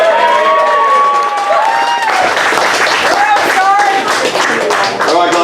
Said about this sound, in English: And a big cheer for DB.